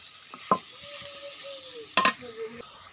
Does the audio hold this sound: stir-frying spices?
yes